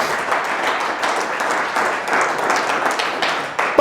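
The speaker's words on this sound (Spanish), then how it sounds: "Dale fuerte el aplauso al Señor." A church congregation applauds during a sermon, a steady wash of many hands clapping at an even level throughout, with a faint sound at the very end.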